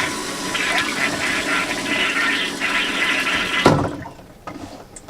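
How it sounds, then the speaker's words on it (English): A flushing toilet installed in an MCI E4500 bus conversion rushes loudly and steadily, then cuts off abruptly into a quieter trickle and a few small clunks. "And then all the way down flush it."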